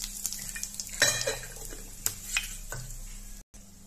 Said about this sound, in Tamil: எண்ணெய் காஞ்சதும் கடுகு சேர்த்துக்கலாம்.